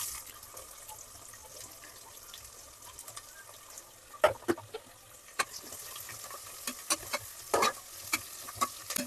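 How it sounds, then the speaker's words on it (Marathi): Onions frying in a pressure cooker while rice with prawns is being prepared, a low steady sizzle under sharp scraping clicks of a spoon stirring against the metal pot, growing busier in the second half, with no talking. "आता हे थोडेसे रोस्ट झालेत तर आपण कांदे टाकून घेऊ"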